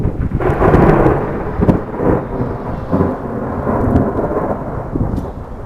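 Thunder from a lightning bolt in a thunderstorm rolls loud and close, a broad rumbling roar with cracking surges that swells and fades over several seconds amid the hiss of falling rain.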